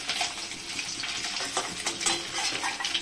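Rui fish pieces frying in a pan give a dense, steady sizzle with occasional utensil scrapes and clinks, close and continuous throughout.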